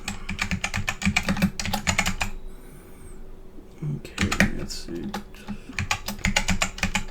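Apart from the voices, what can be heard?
typing on a computer keyboard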